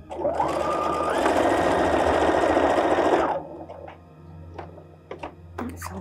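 A sewing machine runs steadily on a short stitch-length setting, a loud close whirring hum for about three seconds, then stops, leaving a few faint clicks and handling sounds.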